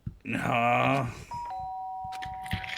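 A two-tone doorbell chime from Danganronpa rings out after a burst of voice, the second tone held steady and fading slowly, with faint clatter underneath.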